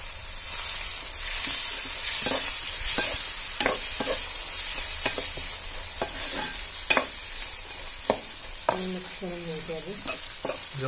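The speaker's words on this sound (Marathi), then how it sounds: "मस्त फोडणी लागली" Chana dal being stirred in hot tempering oil in a pan for a wild leafy vegetable dish, with a steady loud sizzle and repeated scraping stir strokes throughout, no talking.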